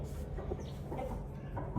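A rooster clucks softly and somewhat muffled over a low background hum, with no one talking.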